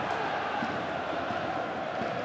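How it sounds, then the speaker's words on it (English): A dense football crowd roars steadily at Windsor Park during the Irish Cup Final between Cliftonville and Linfield, a loud, unbroken wall of voices. "I've rarely heard Windsor Park louder as Linfield win a free kick"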